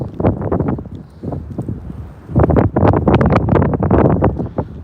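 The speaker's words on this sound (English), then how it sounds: "And now the winds are picking up." Strong gusts during a lake effect snow squall in Oswego buffet the microphone with heavy, loud roaring rumble that surges and eases, rising harder in the second half, with no talking.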